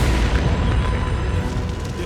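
Stored fuel vapors ignite at a generator in a huge fire, a loud deep rumbling boom that rolls on with a roaring, sustained blast.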